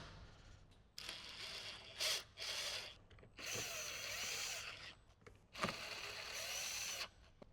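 A power driver tightens screws while a Sony GS sound bar is fitted in a 2015–2018 Jeep JK Wrangler, giving several short, faint whirring bursts separated by brief pauses.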